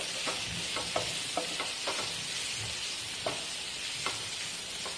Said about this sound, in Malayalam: ഒന്ന് വഴറ്റിയെടുക്കുക